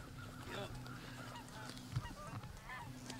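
A flock of geese honks repeatedly in the open during an early-season hunt from layout blinds, with overlapping calls close and distant over faint low background noise.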